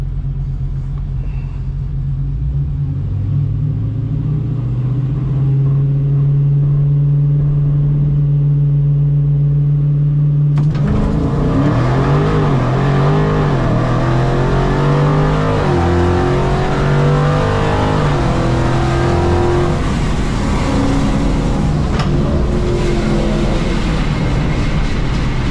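A Mopar bracket-class drag car idles with a steady low rumble, then launches into a loud, surging run with rising revs that fills the rest of the pass, with no talking over it.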